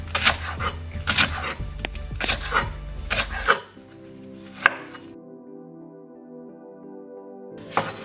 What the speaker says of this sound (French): on commence à découper nos condiments